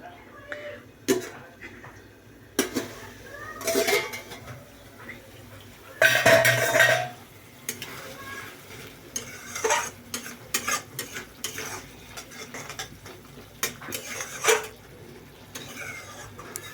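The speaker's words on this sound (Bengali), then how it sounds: "এখন আমি এই ফুলকপি দিয়ে দিলাম" Cauliflower frying in oil in a pan for a vegetarian curry with peas, spoon scraping and clattering against the pan in irregular bursts over a soft sizzle, with a louder burst of frying midway.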